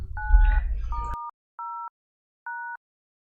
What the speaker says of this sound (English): each button was uniquely identifiable by the combination of two tones